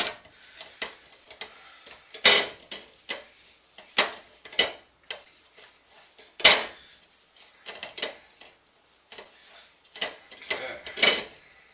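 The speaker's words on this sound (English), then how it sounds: "Once you get all these spices nice and mixed in there" Spices being worked into East Coast donair meat in a bowl produce a run of sharp clinks and knocks of utensil against dish, irregular and close, with faint, brief bits of voice between them.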